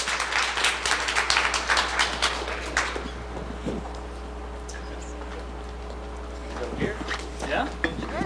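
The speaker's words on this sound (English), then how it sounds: "So let's give them a round of applause and welcome them to the front." Audience applause welcoming panelists to the front at a data science event in Utah, a burst of clapping for about three seconds that fades into room noise, clinking and faint talk.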